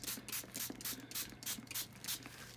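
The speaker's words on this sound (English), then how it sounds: "I am going to spray my paper first." A spray bottle mists water onto paper before watercolor, producing a quick series of soft close hissing bursts in an even rhythm, with no voice over them.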